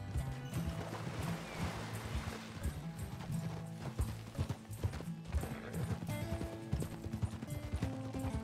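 Horse hooves clip-clopping in a steady gallop rhythm while riding in Red Dead Redemption 2, with occasional snorts over a busy game soundscape, close and continuous, no talking.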